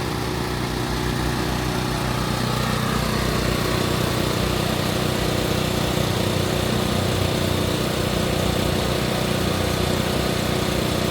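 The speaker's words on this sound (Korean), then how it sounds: "여기 5kg, 3kg, 5kg 발전기 갖고 해볼게요" A portable generator runs steadily up close with a loud, constant engine drone and hum, powering a Hyundai HG200 no-gas welder, with no pauses and no speech.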